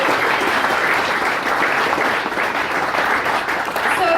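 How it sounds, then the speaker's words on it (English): Sustained audience applause at a charity fundraiser in a restaurant, dense continuous clapping holding steady and fairly loud throughout without talk. "So, we gotta clap it again."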